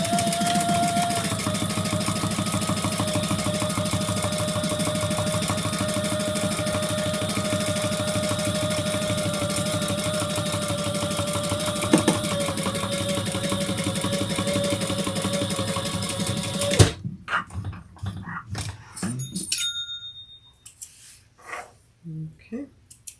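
Sewing machine running continuously as it bastes around a Delilah crossbody bag, a steady rapid mechanical whir that cuts off near the end, followed by scattered handling knocks.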